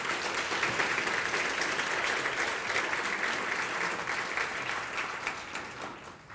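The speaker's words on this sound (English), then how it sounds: "Give him a round of applause. He deserves it." An audience applauds at a talk, a dense, sustained wash of many hands clapping that holds steady and then tapers off slightly near the end.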